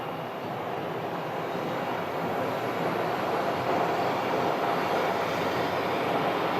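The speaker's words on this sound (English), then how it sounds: "you're going to hear the sound of the A321 starting up" Airbus A321 jet engines spool up at an airport, a steady loud broadband roar with a faint high whine on top, continuous throughout with no talk.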